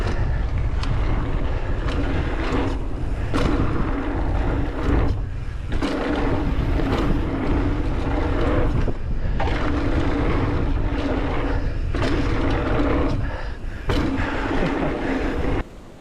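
Strong wind at an outdoor bike skills park buffets loudly and steadily in a close, rumbling roar, with gusts that surge and ease over about sixteen seconds and no talking.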